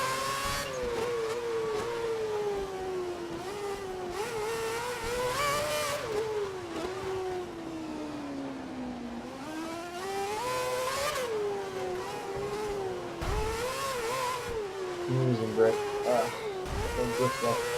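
Formula 1 race car engines in the F1 2011 video game, a high whining drone rising and falling through gear changes and corners, steady and continuous beneath the player's commentary.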